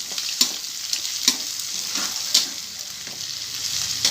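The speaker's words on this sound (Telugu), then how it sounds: "ఎగ్స్ ఇలా 2 మినిట్స్ ఫ్రై అయిన తర్వాత ఇందులో చికెన్ వేస్తున్నాను" Chicken pieces frying in a pan with eggs for chicken fried rice, giving a steady close sizzle with intermittent scraping stir strokes at an uneven rhythm, no voices.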